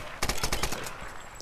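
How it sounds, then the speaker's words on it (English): A quick burst of gunfire in the Tomb Raider video game, several rapid cracking shots in a row, lasting well under a second against background game noise. "Yep, still shooting."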